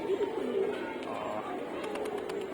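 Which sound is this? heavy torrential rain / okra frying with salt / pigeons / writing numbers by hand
pigeons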